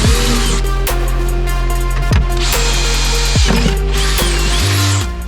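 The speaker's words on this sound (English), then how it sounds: "I should have my drill for cleaning" Power drill whirring in bursts while prepping a C8 Corvette drift car chassis for cage fitting, a few spin-ups with short pauses, loud and close with ratcheting clicks between runs, no talk.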